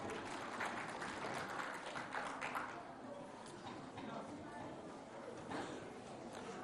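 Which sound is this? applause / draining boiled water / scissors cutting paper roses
applause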